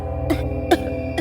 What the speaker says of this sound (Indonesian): Keempat anak itu mulai batuk-batuk.